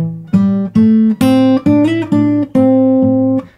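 Blues slide guitar phrase, a handful of sustained plucked notes with gliding pitch, loud and close, played alone with no voice.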